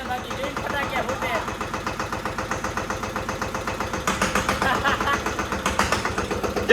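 A tractor engine runs on a farm, its steady loud thudding pulses repeating fast and evenly as it idles close by, with a slight rise in intensity partway through.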